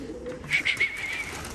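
Pigeons kept on a rooftop coo in a short burst of three soft rolling calls close by, followed by a faint lingering tone against quiet background noise.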